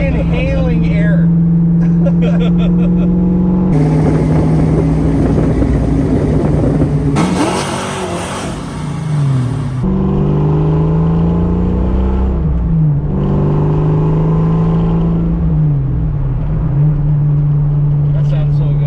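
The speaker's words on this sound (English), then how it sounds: "You hear the supercharger just inhaling air." A supercharged 1986 Ford Mustang GT with BBK shorty headers and an off-road H-pipe revs and accelerates hard, its engine note rising and falling in repeated pulls while people talk over it.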